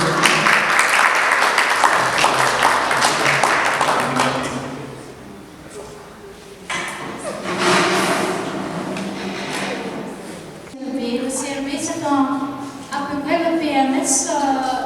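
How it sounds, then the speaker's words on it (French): Audience applause at an inter-associative cultural day event, dense clapping loud at first, fading around mid-clip before voices and more scattered clapping return, with people talking over it. "vous pouvez l'applaudir"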